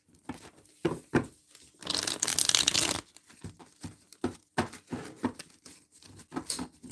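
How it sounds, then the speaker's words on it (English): Tarot cards being shuffled by hand, a series of crisp riffling bursts and soft taps with one longer continuous riffle in the middle, close and fairly quiet, with no voices. "it's fun when you see the cards and you see the shuffling and everything"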